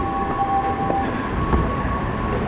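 A metro train rumbles through a station in the DC area, a continuous loud rolling drone with a faint steady high whine from the cars, a few soft clicks along the way and no voices.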